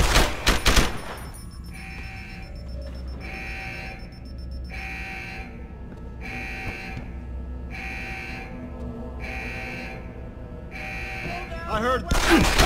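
Gunfire in Deus Ex: Human Revolution comes as a loud burst at the start and again at the end. In between, an alarm-like buzzer pulses steadily and repeats at an even rhythm.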